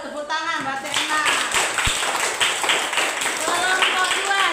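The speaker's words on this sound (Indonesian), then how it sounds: "Tepuk tangan, berarti enak." Children clap their hands in a classroom cooking lesson where groups make Acehnese nasi tue, a steady burst of clapping mixed with young voices and chatter throughout.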